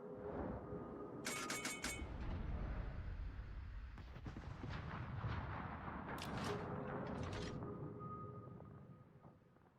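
Heavy naval guns from a warship fire in World of Warships, with deep rumbling booms and sustained roaring blast noise filling the scene, fairly faint and distant overall.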